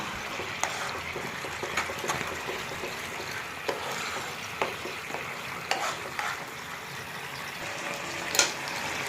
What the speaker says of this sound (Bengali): সসটা একটু নাড়িয়ে দিয়ে